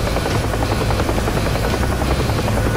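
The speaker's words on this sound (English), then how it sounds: "Okay, leave the chopper going in for landing." A helicopter descends to land in the DCS flight simulator, its dense, loud rotor thump and turbine whine filling the whole stretch steadily with no voices.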